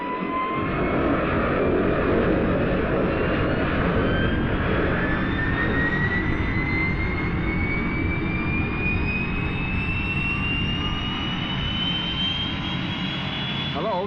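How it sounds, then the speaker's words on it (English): Jet aircraft engine roaring steadily through a takeoff, a loud continuous rush with a whine that rises slowly in pitch, heard alone as a radio drama sound effect. "I'm standing by for takeoff."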